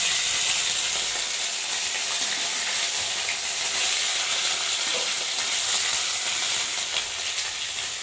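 Cumin paste and ginger frying in hot oil for a bottle gourd and prawn dish, a dense, continuous close-up sizzle and hiss with occasional stirring scrapes, steady throughout.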